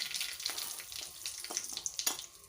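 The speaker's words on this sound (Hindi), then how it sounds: "तेल गरम हो चुका है। 1 चम्मच जीरा, 1 चम्मच राई, कड़ी पत्ता डालते हैं।" Cumin, mustard seeds and curry leaves spit and sizzle in hot oil, a continuous crackling fry with sharp pops scattered throughout, close by.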